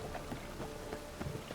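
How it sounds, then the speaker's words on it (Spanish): Rain falling in the open-world game The Witcher 3, a soft, steady hiss of rainfall with faint patters, quiet and continuous with no voices. "Hostia, que está lloviendo"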